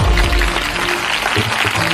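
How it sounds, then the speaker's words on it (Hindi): A church congregation claps for Jesus Christ, a loud, dense burst of applause lasting a couple of seconds. "सब जन यीशु मसीह के लिए ताली बजाइए।"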